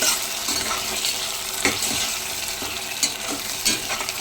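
Taro root pieces fry in oil with onions, a steady close sizzle with periodic scraping and stirring knocks in the pan.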